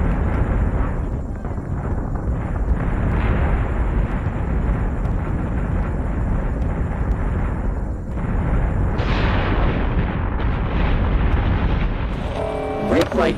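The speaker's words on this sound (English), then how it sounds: "We have firing solution on the front batteries." In an aerial combat video game, front batteries fire amid explosions, making a dense, continuous roar of booming blasts and gunfire, loud and close throughout, with voices talking over the battle.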